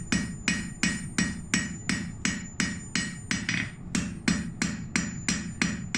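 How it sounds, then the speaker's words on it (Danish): Steady metallic hammering with the corner of a hammer on a Viking-age iron frying pan being shaped, about two sharp ringing blows per second, close and even, with no talking. "Det er egentlig bare et hjørne af hammeren, jeg bruger."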